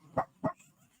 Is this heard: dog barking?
yes